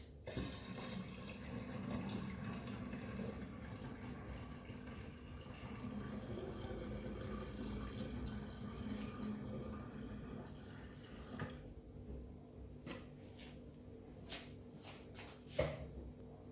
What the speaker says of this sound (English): So now I'm just going to pour this into the top of the jar